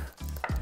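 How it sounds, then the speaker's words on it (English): Mushrooms basting in butter, garlic and sesame oil in a pan give a brief, close sizzle and gentle frying hiss with a soft stir. "I'm just going to baste them in a bit of butter, a bit of garlic, a bit of sesame oil"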